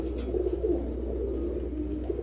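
A pigeon coos softly in a low, warbling murmur that runs continuously through a brief stretch, faint and close with a faint background hum and no talking.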